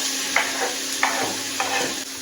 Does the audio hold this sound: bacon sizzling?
yes